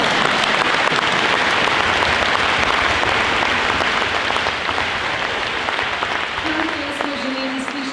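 Sustained, dense applause from a concert audience at a music school's 70th anniversary gala, loud and close, fading slightly toward the end as a voice begins to speak over it.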